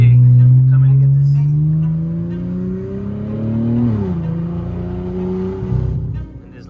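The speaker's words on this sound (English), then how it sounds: "In this loud ass car." Modified Nissan Z sports car with upgraded turbos, its loud engine revving up with rising and dipping pitch for several seconds, close and dominant, with voices talking over it.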